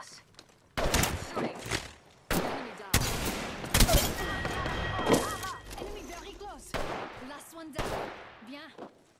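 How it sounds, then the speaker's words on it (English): Gunfire in Apex Legends: bursts of shots and heavy thuds crack out in irregular clusters, loud and close, mixed with game effects and a voice talking over the action. "They're shooting at me."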